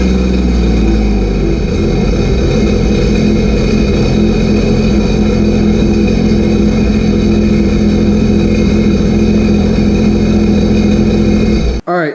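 A Sea-Doo RXP-X 300 personal watercraft engine runs on its stock exhaust, a loud, steady close-up drone after startup that holds for about twelve seconds before cutting off abruptly.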